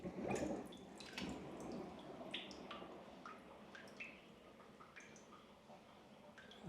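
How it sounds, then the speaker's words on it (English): Water swirls and gurgles down a newly waterproofed shower drain, a soft liquid wash with scattered drips and small splashes, quiet and close throughout. "This is going to test how well this drains. If this swirls down nicely,"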